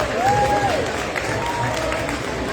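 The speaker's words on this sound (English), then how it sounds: "Round of applause for the Latin Jazz Orchestra this evening," Steady applause and light crowd noise fill a casino venue after a Latin jazz orchestra's performance, sustained and fairly loud throughout.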